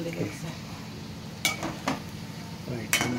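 Stirring fried mutton kheema in a pan: a few distinct metallic scrapes and clinks of a spoon against the pan, spaced about a second apart, over a low background hiss of cooking.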